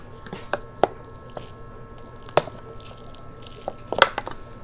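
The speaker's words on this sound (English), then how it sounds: "So I'm gonna water it in real good." A potted Fukien tea bonsai is watered, producing a few faint, scattered drips and soft splashes spread irregularly over a few quiet seconds.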